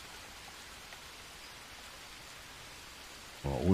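Heavy rain pours steadily in the jungle survival game Green Hell, a dense, even hiss throughout with a louder thump breaking in at the very end.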